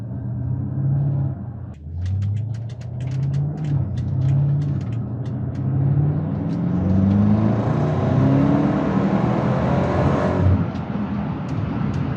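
A 2014 BMW X5 xDrive50i's engine and exhaust while driving: a steady low rumble rising in pitch through repeated revs and shifts, with a brief crackle of exhaust pops early on and a faint turbo whir, close and loud.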